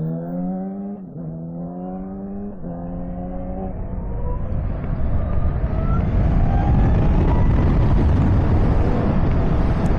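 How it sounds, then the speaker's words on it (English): A Livewire Del Mar electric motorcycle accelerates hard, its motor whine rising steadily in pitch over a couple of surges before wind roar builds and swamps it, loud and close throughout. "And it does accelerate very quickly."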